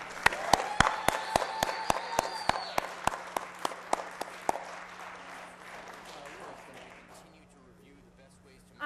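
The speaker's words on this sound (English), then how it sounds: "please give me a loud round of applause for the executive producer and founder, Sarah Galli" An audience at the NASDAQ closing bell event applauds for Sarah Galli: a run of crisp, evenly spaced claps over a lighter spread of clapping that tapers off after about seven seconds, with talk underneath.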